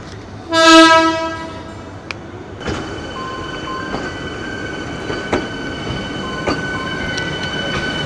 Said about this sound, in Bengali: ট্রেন কিন্তু প্ল্যাটফর্মে এন্টার করছে